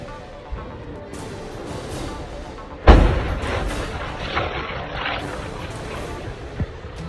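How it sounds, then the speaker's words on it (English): Munitions stockpile detonating at Lipetsk Air Base: one heavy blast booms about midway, its rumble carrying on beneath a steady noisy background, with a couple of fainter thuds afterward. "Massive munitions stockpile was hit and continues to detonate at the base."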